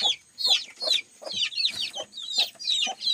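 A hen and a rooster cluck in a henhouse, loud and close, in quick repeated bursts of short clucks with brief pauses between them.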